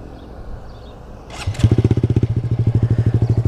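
A Honda Grom motorcycle fitted with a new aftermarket exhaust starts up close by and settles into a loud, steady, rapidly pulsing idle, with no one talking.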